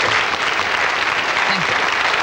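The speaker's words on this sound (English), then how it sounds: "Ladies and gentlemen, Kurt Eppel, the bowman. Good night, round of applause." Studio audience applause for bowman Kurt Eppel on a BBC Paul Daniels magic show, a dense, steady wash of clapping that fills the short stretch at full strength.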